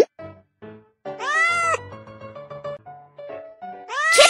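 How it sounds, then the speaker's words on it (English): Cartoon cat meowing in a kids' animal-sound guessing game, a few clear bright meows over short game jingle notes, close and loud. "Kitten."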